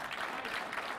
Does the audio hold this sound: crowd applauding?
yes